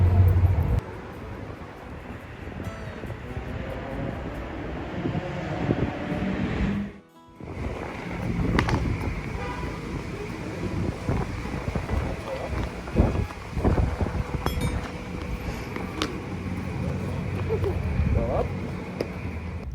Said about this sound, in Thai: วันนี้ลมข้างนอกค่อนข้างแรงค่ะ